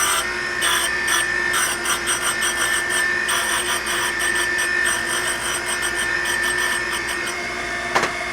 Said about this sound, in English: we're going to grind this mating surface of the connecting rod and the cap